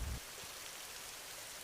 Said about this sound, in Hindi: बारिश तो अब तेज हो रही है